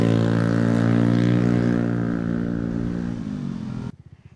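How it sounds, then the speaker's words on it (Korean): A motorcycle engine on a street in Gwangyang, loud and droning with a steady harmonic tone that fades as it moves off, then cuts to a softer sputtering idle at the end. "오토바이가 많이 다니는 광양의 한 거리"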